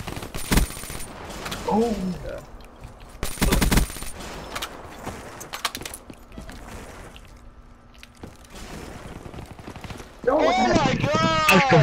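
Video-game gunfire crackles in several sharp bursts, with a dense rapid volley near the end, while excited players shout and talk over it.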